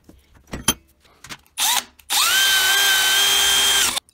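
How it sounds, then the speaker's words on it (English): A power drill bores into an aluminum motorcycle cylinder jug, first in short bursts with clicks and handling noise, then running steadily and loudly for about two seconds with a rising whine as it spins up and holds speed. "I'm going to have at drilling this thing"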